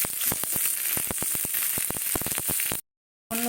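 Mustard seeds and curry leaves sizzle and crackle in hot refined oil in a small pan, with a dense hiss punctuated by sharp popping seeds, close and loud before abruptly cutting off.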